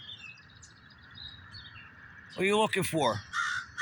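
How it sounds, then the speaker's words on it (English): A crow caws loudly in a burst of harsh repeated calls, with thinner bird calls in the background and a person speaking briefly. "Listen to these other stupid birds."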